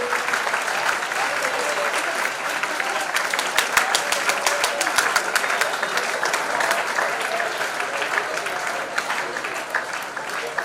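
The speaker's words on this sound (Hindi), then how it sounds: "ताली आप लोग मारते रहिए।" Sustained applause from a crowd of workers at a medal ceremony for a youth wing, steady and dense for the whole stretch with sharper individual claps poking through, no speech over it.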